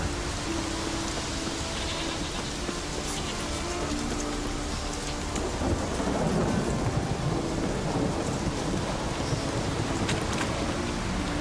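Thunderstorm with rain in the video game The Witcher 3, a steady hiss of rainfall with a deep rolling rumble of thunder swelling midway, fairly loud and continuous, with no talking.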